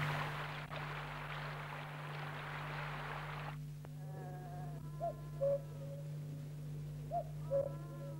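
A tawny owl hoots faintly in woodland beside Cliviger Hall, two short calls near the end following a burst of broadband noise, with a low steady hum underneath.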